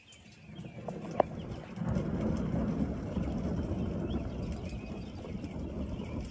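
Deep, low rumble of thunder during an intense storm, swelling after a faint crack and rolling on steadily to the end, distant but heavy, over a steady background hiss.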